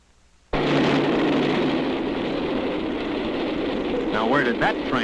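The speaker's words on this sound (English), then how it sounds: "As this train approaches, let's see how close it comes before we hear it." A 1950s train approaching a railroad crossing, a loud steady rumble starting abruptly and holding at full strength, with higher whistle-like tones sliding in near the end.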